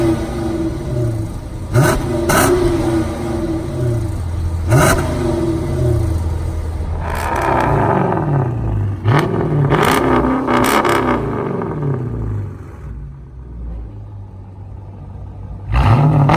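Straight-piped 2016 Dodge Charger R/T V8 revved hard in repeated sharp blips, loud and close, with a rough rumbling idle between bursts and a final rev at the end.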